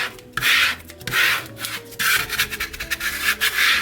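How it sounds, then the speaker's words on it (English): A scraper rubs vinyl firmly onto transfer tape for a wooden sign, in repeated close, loud rasping strokes with brief pauses between passes; no speech. "you take your scraper and you just scrape it really well so your vinyl sticks to your"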